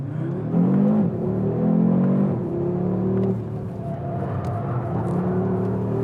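An Audi RS3 pulls away and accelerates, its engine note rising and falling through gear changes with a deep, close rumble and whirring revs, no talking over it.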